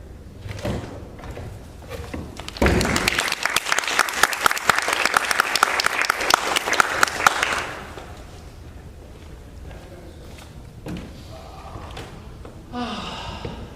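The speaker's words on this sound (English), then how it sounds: "Let's give another round of applause for Akhille." Theatre audience applauding after a monologue in a BFA senior showcase. A loud burst of close, crisp clapping runs for about five seconds and fades, with quieter rustles and voices around it.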